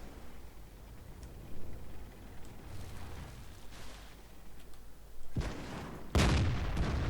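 A tank shell bounces off armor in World of Tanks, a short sharp impact followed by a louder booming crack near the end, over a low rumbling battle background.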